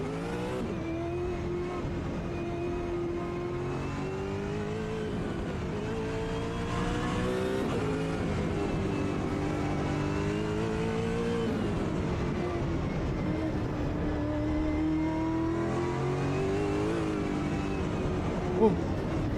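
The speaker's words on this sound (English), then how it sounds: "Now we're taking a Brabham hypercar to the old school 1971 Nordschleife." Brabham hypercar engine in the Automobilista 2 racing game on the 1971 Nordschleife, a loud, continuous roar that climbs and falls through gear changes and revs, with faint tire noise beneath and a voice talking over it.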